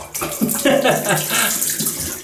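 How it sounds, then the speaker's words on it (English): Cold tap water runs steadily into a sink for a quick face rinse after a wet shave, a close, continuous splashing rush lasting a couple of seconds with no speech. "Let me have a quick rinse. Man, that water's cold."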